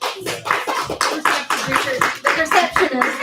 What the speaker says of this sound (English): give a big round of applause for our magician